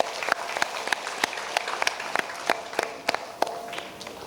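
A small group at a Gujarati-medium school annual function claps for absent teachers, with sparse, separate sharp claps spaced irregularly over a quiet room background rather than a full ovation.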